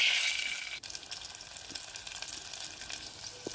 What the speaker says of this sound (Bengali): অল্প লবণ, হলুদ দিয়ে আলুটাকে লাল করে ভেজে নেব।